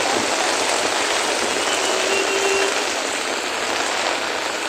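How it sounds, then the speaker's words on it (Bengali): Heavy rain and fast-running rainwater rushing through a flooded city street, a steady dense broadband wash that stays loud and even throughout with no voices. "পানির স্রোত প্রচুর"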